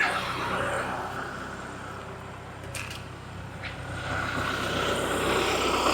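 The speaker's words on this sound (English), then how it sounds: "Come back right here with the tractor bucket." A tractor with its bucket pressing down gravel gives a steady, moderately distant engine drone that holds throughout, with no sharp impacts standing out.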